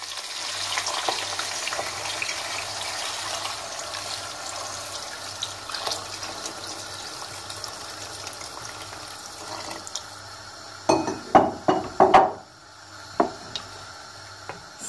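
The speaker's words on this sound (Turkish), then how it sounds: "Şimdi suyunu ilave ediyoruz." Water is poured into a hot pot of beef for boiling, starting with a low hiss and crackle, then a few sharp sputtering bursts of sizzling near the end.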